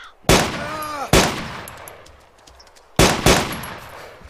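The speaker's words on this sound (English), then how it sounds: "Such a bad shot with this gun at times." Gunshots fired in the video game DayZ: two loud sharp reports about a second apart, then after a quiet gap another two in quick succession, each with a short decaying tail.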